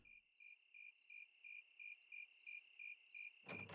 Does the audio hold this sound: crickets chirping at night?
yes